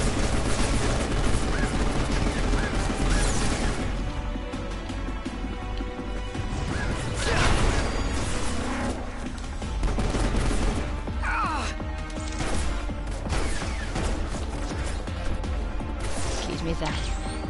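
Gunfire rattles through Final Fantasy 15 combat in repeated loud cracks and bursts, mixed with crashes and impacts over a dense, busy battle soundtrack.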